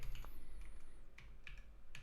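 Steady typing on a computer keyboard, close and fairly quiet, with irregular clusters of key clicks and a few firmer taps, no talking.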